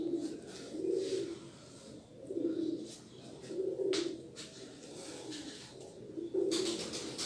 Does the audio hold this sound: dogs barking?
no